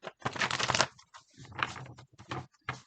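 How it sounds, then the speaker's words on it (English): Tarot cards shuffled in bursts of quick riffling clatter separated by short pauses, close and clear with no talk. "One more shuffle. That's it. Just 2 cards."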